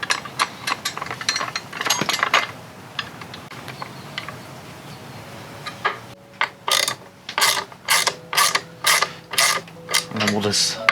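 A ratchet tightening the crash bar bolts on a 2021 Ducati Scrambler Desert Sled, first a stretch of faint clicking and handling, then a clear run of about ten quick, close ratcheting clicks in a steady rhythm.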